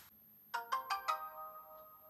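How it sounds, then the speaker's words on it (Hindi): A Jio Bharat 4G keypad phone plays its boot-up tone: four quick bright chime notes rising in sequence, then a sustained ringing fade, clear and alone after near silence. "अभी ये फोन बूटिंग अप हो चुका है दोस्तों"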